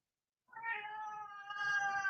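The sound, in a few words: cat meowing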